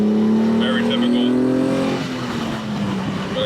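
A 1970 Ferrari Dino 246 engine hums loudly and steadily from inside the car while driving, its note rising over the first two seconds and then easing off.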